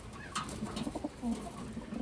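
Pigeons of a checkered, purple-eyed, medium-to-large breed coo softly in a short run of low, throaty calls with no talk over them.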